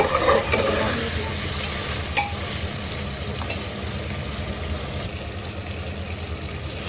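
Chicken liver and gizzard are stirred and fried in a spice masala. A steady, loud sizzle runs throughout, with stirring scrapes near the start.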